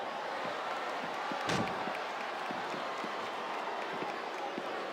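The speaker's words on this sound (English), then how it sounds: "This capacity crowd is making their opinions known tonight." A capacity arena crowd in a WWE 2K wrestling video game roars in a continuous broad wash of cheering and applause, with scattered sharp thuds and one louder impact around the middle.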